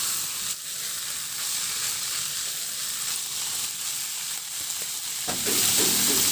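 Flaked fish sautés with aromatic spices in a pan, giving a loud, steady broadband sizzle throughout that swells slightly near the end, with no talking.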